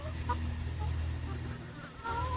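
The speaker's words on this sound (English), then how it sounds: "That chicken is trying to get out the door." A chicken clucks near a door in a summer garden, the short calls faint and scattered over steady low background rumble.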